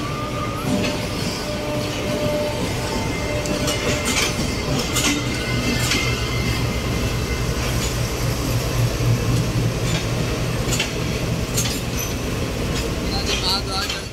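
A train rumbles past at a Pakistan railway station, a loud steady roar with rattling wagon clatter filling the whole stretch, with no gaps.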